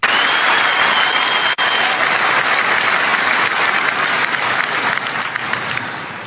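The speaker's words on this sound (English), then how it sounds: "the entire crowd stands and erupts, standing ovation." A whole crowd on its feet in a standing ovation, loud dense clapping and cheering roar sustained for several seconds, close and continuous, easing slightly at the end.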